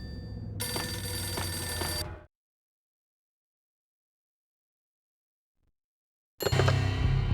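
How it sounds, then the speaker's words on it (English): A telephone rings in the video game Max Payne, two bursts of loud electronic ringing separated by about four seconds of complete silence. "Is that the phone?"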